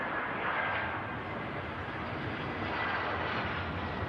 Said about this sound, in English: EasyJet coming in, though, from Belfast.